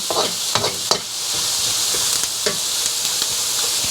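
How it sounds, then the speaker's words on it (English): Onions sizzle steadily in oil in a pan for salted fish fried rice, a continuous loud frying hiss broken by a few brief stirring scrapes and clinks. "I'm going to let it cook a little bit, so let the onions turn a little bit brown."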